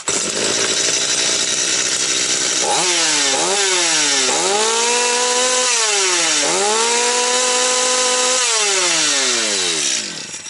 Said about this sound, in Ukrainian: Давайте його ще раз диркнемо.